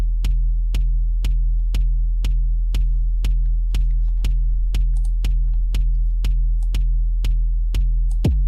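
Layered drum samples, a sharp attack hit combined with a softer tail, repeat in an even, steady rhythm of about two hits per second over a sustained low hum, clear and alone with no voices.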